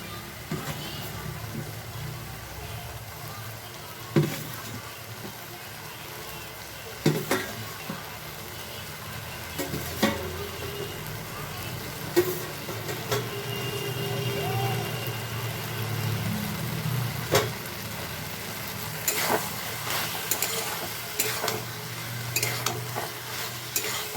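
Tomato chutney simmering in a covered pot, a soft continuous bubbling sizzle with occasional clinks and scraping stirs, a voice talking faintly at times.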